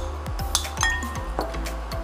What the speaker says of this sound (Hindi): मसाले को अच्छे से मिला लीजिए।